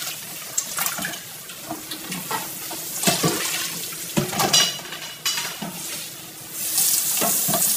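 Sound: water running while washing pork skin

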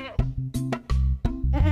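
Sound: goat bleating

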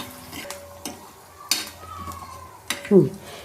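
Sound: stirring chickpea patoli frying in a pan

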